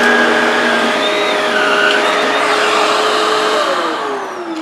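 A Shark Rotator Powered Lift-Away vacuum runs loudly over carpet, sucking up crushed Cheerios with a steady roaring whine whose pitch shifts and bends as the head moves, easing off slightly at the end.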